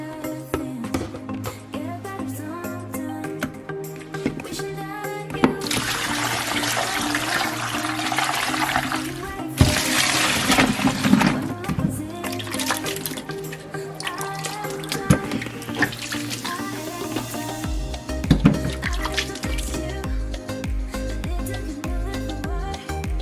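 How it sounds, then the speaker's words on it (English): Tap water gushes and splashes in a sink as soaked sweet potatoes are drained and rinsed, a loud, close, continuous run of water with clattering bursts and shifting splashes. "we're gonna drain and rinse the sweet potatoes very well"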